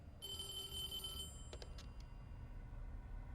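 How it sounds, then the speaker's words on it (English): An old 1970s telephone rings inside the video game Devotion: one bright, trilling ring burst lasting about a second, followed by a few short faint chirps. The sound is quiet overall, and nobody speaks. "there our 1970s phone is going off"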